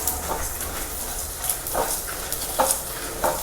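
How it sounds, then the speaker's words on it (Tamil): Four or five dried red chillies are dry-roasted in a pan until they turn deep red, with a spatula scraping and stirring in a steady rhythm of soft scuffs over a low background hiss. "இந்த அளவுக்கு நல்ல வாசனை வர மாதிரி செவக்க வறுக்கணும்."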